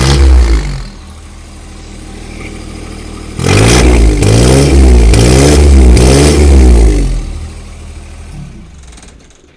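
A John Deere 2025R compact tractor engine, a 2025 model with HydrosPlus, starts at idle, then revs up and down several times in quick rhythmic surges before settling back, loud and close.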